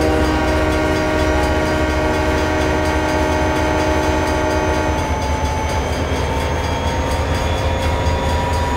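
A freight train rolls steadily with its horn sounding, loud sustained tonal blasts layered over continuous rumbling wheel noise, close and unbroken throughout.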